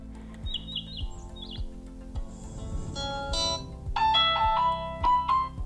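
An electronic birdsong alarm ringtone plays clearly from a tablet: chirping whistled bird calls over a soft repeating musical backing, growing louder toward the end.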